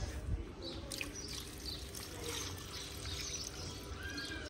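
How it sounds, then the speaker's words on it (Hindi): Water poured into a bowl set out for birds in the shade of a tree outdoors, a steady soft trickle over broadband background noise with faint bird chirps throughout. "यहाँ पर मैं चिड़ियाओं को पानी डालती हूँ"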